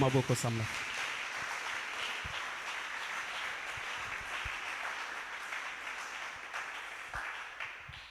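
A church congregation applauding during a French-language worship service, a sustained wash of many hands clapping at even strength throughout, with a brief voice at the start.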